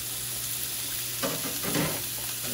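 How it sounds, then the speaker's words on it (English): A filet steak laid seasoning side down in a hot pan, giving a low continuous sizzle that swells into a louder burst of frying midway before settling back, with no talking. "And I'm going to put it seasoning side down in the pan."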